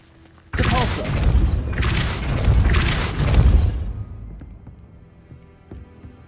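A Depulso spell cast in the Hogwarts Legacy video game on PS5 lands as a sudden loud booming burst that rumbles and surges for about three seconds, then fades to a quiet hum with faint clicks.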